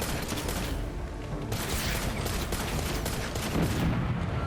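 Hwacha volley firing in the Ghost of Tsushima video game, a dense continuous barrage of rapid rocket-arrow launches and crackling blasts rolling on without pause, loud and close.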